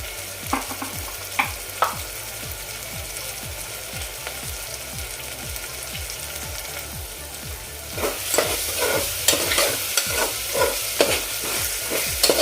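Tomato masala with red chili powder sautéing for a cluster bean curry, a continuous sizzle under quick, regular scraping strokes of a spatula in the pan, growing louder and more vigorous toward the end.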